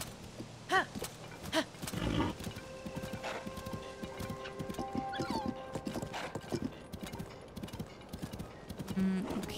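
Horse hooves clip-clop in a steady riding rhythm in the video game Zelda: Tears of the Kingdom, with a whinny near the start, game chimes and some background tones.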